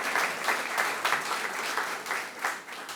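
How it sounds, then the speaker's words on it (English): An audience at a Polk County Sports Hall of Fame ribbon cutting applauds steadily, a dense, moderately loud wash of many hands clapping with slight swells, heard alone without talk. "Let's give them all a round of applause."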